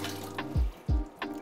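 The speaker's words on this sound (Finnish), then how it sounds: "Nopea huuhtelu." Capers get a quick rinse under cold tap water in a kitchen: a steady, close hiss of running water, broken by a couple of soft low thuds as the food shifts.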